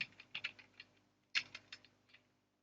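Quiet keystrokes on a computer keyboard, a short burst of clicks followed by a slower second run of taps, close and faint with no talking.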